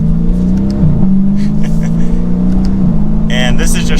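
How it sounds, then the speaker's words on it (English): A 2022 Dodge Challenger Scat Pack 392 V8 pulls at part throttle, its steady low engine drone dipping briefly at each short shift, with a faint whine near the end. "it's fun to accelerate in this car."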